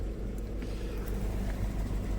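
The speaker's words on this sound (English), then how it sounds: "Vehicle's idling." A 2017 Peugeot 3008 idles after a DPF cleaning, giving a quiet, even low hum with soft regular pulsing, heard up close and alone.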